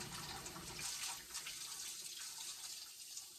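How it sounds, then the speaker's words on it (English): Basil leaves being rinsed under a running kitchen tap, with a steady, moderately quiet stream of water splashing continuously into the sink. "let's go ahead and get our basil washed up"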